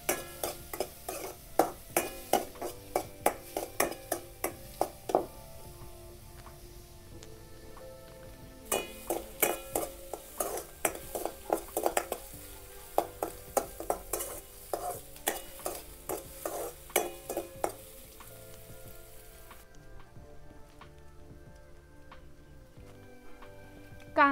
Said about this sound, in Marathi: कांदा पण चांगला परतून घ्यायचा।